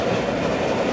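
Vintage passenger train cars with open windows, including a 1911 Pullman coach, rolling along a heritage railway line, giving a steady, loud rumble with continuous rail clatter and no voices.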